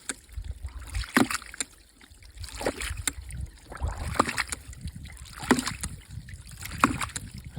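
A siphon and ram pump pushes water through a gravity-fed garden drip irrigation line, giving a steady watery rush broken by repeated knocking pulses at a fairly regular rhythm, close by.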